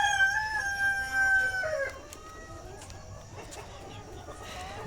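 A rooster crows on a farm of native country chickens at dusk, a long clear call up front, while hens cluck and shuffle nearby as the flock runs about before going into the coop.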